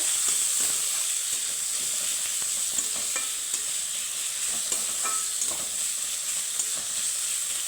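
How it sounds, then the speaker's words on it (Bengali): Spices frying with chopped tomato and coconut in a pan give a steady, loud sizzle and hiss throughout, broken by occasional faint scrapes of stirring, with no voices. "একটু ভাজা ভাজা করে নেব"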